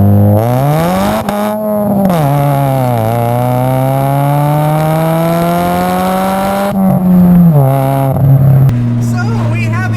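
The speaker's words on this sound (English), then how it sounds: "So we have a 2-liter supercharged 4-cylinder engine in this thing that does 205 horsepower and 200 pound-feet of torque" A supercharged 2-liter four-cylinder engine in a 2005 Chevy Cobalt SS, heard from inside the car, revs loudly through rising pulls with a whining tone, drops at each shift, then climbs again.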